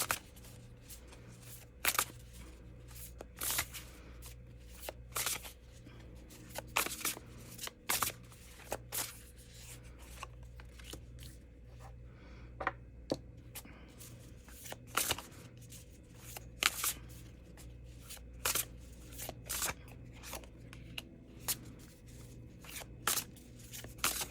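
Tarot cards being handled and shuffled, a long series of crisp riffling bursts and snaps at irregular intervals over a quiet low background hum, close and fairly clear.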